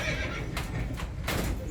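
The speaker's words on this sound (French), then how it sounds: "Les chevaux sont durs à l'ouvrage. Et à l'écurie, on en prend bien soin." Working horses in a logging camp stable neigh loudly and close by, two strong whinnies over a steady rumble, with faint hoof clops and no speech.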